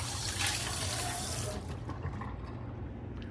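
Hot water runs from a tap over a cast iron pan, a steady splashing gush that thins out after about a second and a half into softer trickling and pooling.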